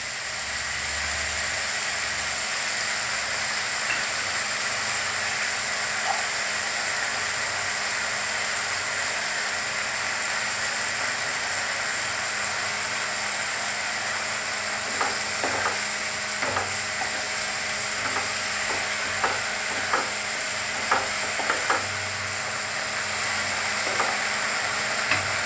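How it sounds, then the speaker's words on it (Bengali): Onion paste fries in a pan with a continuous steady hiss while a spoon scrapes and clicks against the metal in short irregular strokes, close and fairly loud, with no talk. "এবারে এখানে দিয়ে দিব পেঁয়াজ বাটাটা।"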